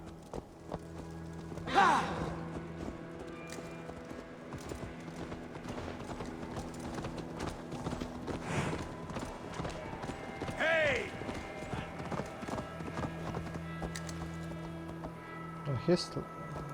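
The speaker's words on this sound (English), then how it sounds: "The horse is so fucking slow, man." Horse hooves clip-clop at a steady walking pace in the Assassin's Creed Valhalla video game, continuous and moderately near beneath ambient game sounds, with a few brief shouts and voices breaking in.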